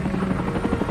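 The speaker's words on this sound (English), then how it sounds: "The helicopters roar up Roquel Creek." Military helicopters on an SAS jungle rescue operation roar low up a creek just above the tree line, a loud, close, steady rotor throb with a rhythmic chopping pulse and no voices.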